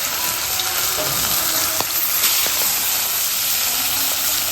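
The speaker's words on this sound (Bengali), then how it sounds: "মাছটা আগে ভেজে নিই।" Fish fries in hot oil in a wok, a loud, steady dense sizzle with occasional sharp pops and crackles throughout.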